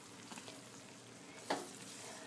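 Homemade sugaring paste bubbling and sizzling in a pot on a stove, a steady faint simmer with one brief sharper pop partway through, no talk.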